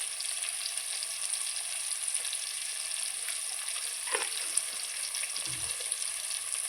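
Ginger-garlic paste frying with onion, chili and tomato in a pan for crab curry, an even bright sizzle throughout with a couple of brief dull knocks from a spoon, no voices.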